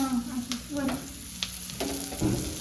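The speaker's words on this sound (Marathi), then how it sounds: "हे बघा गाईज मस्त फिश आपले फ्राय होत आलेले आहे." Fish frying in a pan: a continuous close sizzle with occasional spatters and scrapes, partly under voiced talk.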